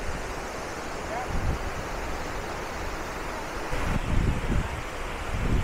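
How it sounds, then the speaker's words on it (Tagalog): Wachiratan Waterfalls in Doi Inthanon National Park, a broad roaring rush of falling water close by, with strong gusts of wind buffeting the microphone. "Wachiratan Waterfalls."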